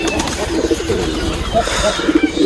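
Pigeons coo in low, throaty repeated calls close by in their winter coop lit by an electric bulb, a soft warbling murmur that continues for a couple of seconds.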